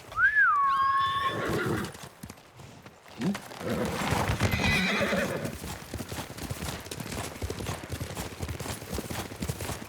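A horse whinnies loudly up close in the video game Ghost of Tsushima, followed by a steady run of hooves clopping on ground for several seconds.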